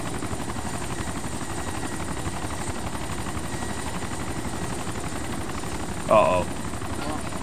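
A helicopter in the survival game DayZ Origins drones steadily throughout with a continuous rotor hum, while a voice briefly speaks over it near the end.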